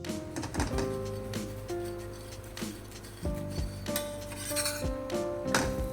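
A roti spread with ghee is pressed and roasted on a hot pan, giving soft rubbing and scraping sounds with light clinks of the utensils against the metal surface, close and steady with no talk.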